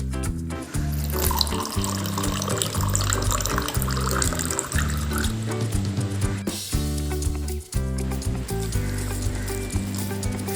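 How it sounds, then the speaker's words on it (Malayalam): Half a glass of chilled water pours into a mixer jar for watermelon juice, a steady splash under loud continuous background music. "അവസാനം നമ്മൾ തണുപ്പിച്ച ഒരു അര ഗ്ലാസ് വെള്ളം കൂടി ചേർക്കുകയാണ്"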